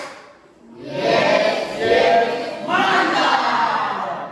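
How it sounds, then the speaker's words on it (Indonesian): A classroom group of students gives applause, a burst of clapping and cheering that swells in two waves and holds loud and close to the end. "kita beri aplaus untuk kelompok"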